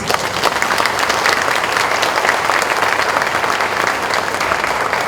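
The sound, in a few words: audience applause after a seminar talk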